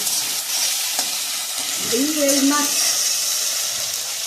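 Tomatoes sizzle and fry in a hot pan for a pomfret fish curry, a steady close hiss with a brief stirring scrape partway through and a voice speaking faintly underneath.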